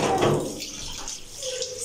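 Kitchen tap water runs steadily for a couple of seconds, a soft continuous wash with a splashy start, while a faint voice is heard briefly near the beginning.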